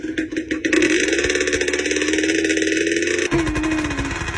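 A motorcycle engine revs and holds a steady, loud drone close by, rising in pitch near the start and briefly dropping before climbing again toward the end, with no talk over it.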